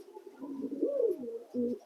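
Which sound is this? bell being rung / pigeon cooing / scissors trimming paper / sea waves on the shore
pigeon cooing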